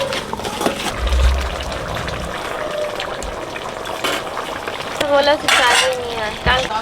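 A metal lid clinks and scrapes onto a cooking pot of ash gourd curry with fried egg, giving a few light clanks amid faint kitchen sizzling, with someone talking in between.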